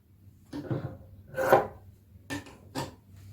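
Scissors snipping away excess fabric during tailoring, a few separate crisp cuts close by with short pauses between them, no talk.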